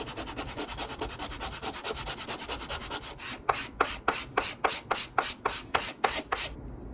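A blade is hand-sanded with 8 grit sandpaper while making a simple knife: quick, even rasping strokes up close that slow into about a dozen longer, distinct passes.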